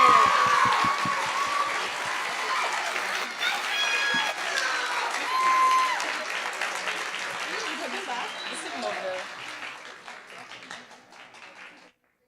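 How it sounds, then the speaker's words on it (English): At a school Women's History Month assembly, an audience claps loudly for the panelists, with some cheering. The applause is full at first, then thins and fades out toward the end. "can we give a huge, huge round of applause to our amazing panelists?"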